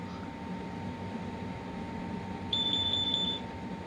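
A smoke alarm and carbon monoxide detector from a collection sound as a steady high electronic tone over a constant mechanical hum, then a second, louder piercing beep joins for about a second.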